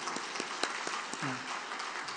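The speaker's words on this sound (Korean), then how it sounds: "박수 한번 치겠습니다" A church congregation applauding during a Sunday morning service, soft continuous clapping at a distance with a few sharper individual claps and a brief voice underneath.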